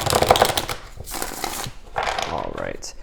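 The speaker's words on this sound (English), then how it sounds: "I'm going to do one more shuffle." Cards riffle and flutter briefly in a couple of quick bursts, up close, mixed with some other handling noise.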